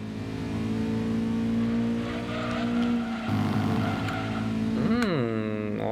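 Racing car engine in Gran Turismo 2 drones steadily and loudly throughout, with a gear change midway and a rising, falling rev sweep near the end.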